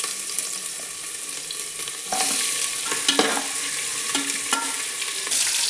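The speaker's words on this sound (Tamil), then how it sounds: "இங்கே பார்த்தீங்கன்னா வெங்காயத்தை பொரிச்சு எடுக்கிறேங்க" Onions being fried and stirred in a pan for chicken biryani, with a steady sizzle and repeated scraping stirs, close and fairly loud with no talking.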